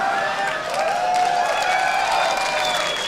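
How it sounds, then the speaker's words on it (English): A crowd cheers and applauds at a concert after a new song, a sustained wash of whoops and clapping with bright shouted voices, fairly loud and steady throughout. "Is that sarcastic cheer?"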